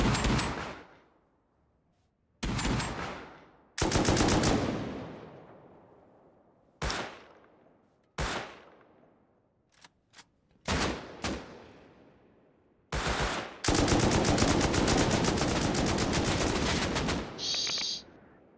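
Gunfire in the survival video game Rust: several separate loud shots and short bursts with sharp onsets and decaying tails, ending in a long sustained rapid automatic burst, with no talking.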